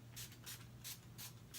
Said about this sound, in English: now I'm going to use my setting spray